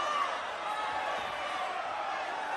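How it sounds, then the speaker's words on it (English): A crowd at a tag-team wrestling match stirs in a steady, dense murmur of many voices, fairly distant and unbroken throughout. "You hear the crowd stirring."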